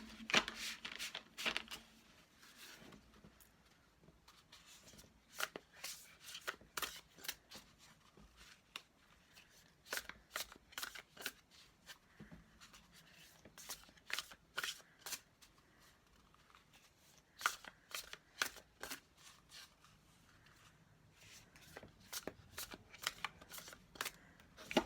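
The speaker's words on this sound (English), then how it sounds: "this is one of my thicker decks, so shuffling it can be a little difficult at times" A thick oracle card deck is shuffled by hand in repeated bursts of crisp riffling and slapping cards, soft and close, with short pauses between rounds.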